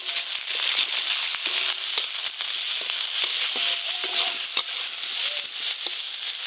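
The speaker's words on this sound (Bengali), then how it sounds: "পনির বাটার মশলার জন্য এখানে নিয়েছি পেঁয়াজ, আদা, কাজু বাদাম, গোটা জিরে একসঙ্গে কড়াতে দিয়ে দেব।" Onion, ginger, cashews, whole cumin, chopped tomato and green chilli frying in mustard oil in a kadai over a clay stove, a close, continuous crackling sizzle with scattered sharp pops and no talking.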